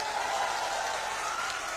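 A crowd claps steadily for candidate Vijendra Babu at an open-air election rally in Simrahi Bazar, a dense, continuous wash of applause with no clear individual claps and no voices.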